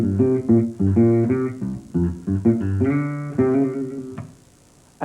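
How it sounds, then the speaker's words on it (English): An electric bass plucked midway along the strings plays a punchy, busy line of quick notes with some held tones, close and clear with no talking. "In the middle, you get a really punchy sound."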